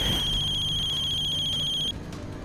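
A phone rings with a steady high electronic tone for about two seconds, then cuts off, leaving a low hum.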